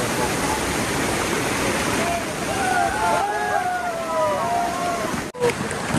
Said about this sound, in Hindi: पानी जा रहा है।